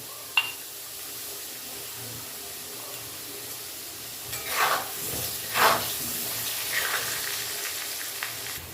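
Potatoes frying in oil in a pan after a pinch of salt goes in, a steady low sizzle and hiss with a few louder spattering bursts, close and alone without talk.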